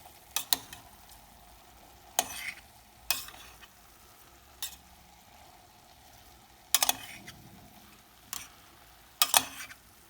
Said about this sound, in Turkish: Yine çok hafif hafif ezmeden, ıspanaklar parçalanmadan karıştırıyorum.